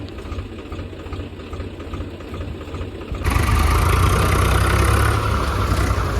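A Swaraj 735 FE tractor engine runs with a steady, rough chugging in a muddy field, then grows suddenly louder and fuller as the engine is revved midway.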